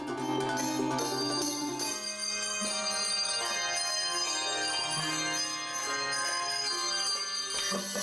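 A handbell choir plays a Christmas piece, many sustained, shimmering bell tones overlapping in a melody with a continuous full sound and no speech.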